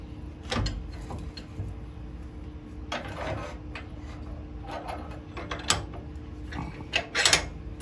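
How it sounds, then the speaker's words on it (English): Metal clunks and clicks from repositioning the tool rest on a wood lathe while turning monkey pod: a few sharp knocks and rattles spread across the clip, over a steady low hum. "I'm going to reposition my tool rest"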